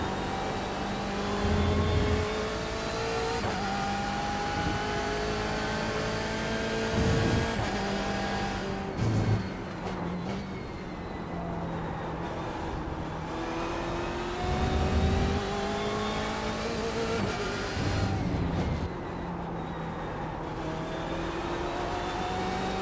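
BMW race car in iRacing, a steady engine drone whose pitch climbs through gears and drops on shifts, with tire squeal at moments, continuous and moderately loud with no talk.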